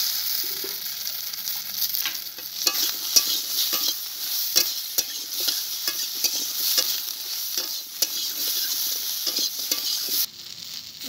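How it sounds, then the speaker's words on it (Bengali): Potatoes frying in a pan with slit green chillies, a steady close sizzle broken by repeated scrapes and clinks of a stirring spoon against the metal, with no voices. "আলু ভাজার ভিতরে দেখুন আমি কয়েকটা কাঁচা লঙ্কা চিড়ে নিয়েছি, দিয়ে দেবো।"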